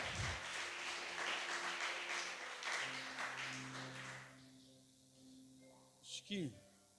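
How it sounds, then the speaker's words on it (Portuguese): A church congregation gives a round of applause during a sermon service, a broad wash of clapping over sustained musical tones that fades out after about four seconds, leaving the tones and then a brief voice. "Então você pode dar uma linda salva de palmas para a palavra do Senhor."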